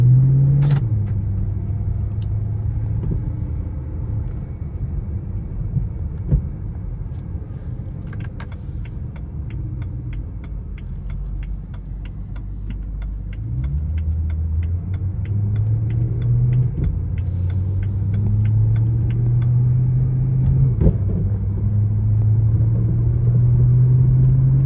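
A 2011 BMW M3 Competition drives along a road, its engine rumbling steadily from inside the cabin, pitch rising and falling with gear changes and a brief stop, with no voices.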